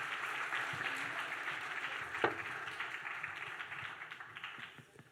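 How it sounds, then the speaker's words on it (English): Quiet, distant audience applause after presentations at a public event on civic action, a soft steady patter of clapping with one louder clap near the middle, fading away at the end. "can I please have another round of applause for all of these very interesting presentations"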